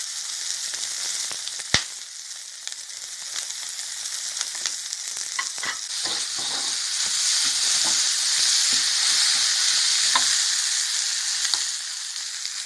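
Pickled mustard greens and egg sizzle and hiss steadily in a hot pan, with scattered clicks and scrapes of stirring, a sharp knock near the start and the frying growing slightly louder midway.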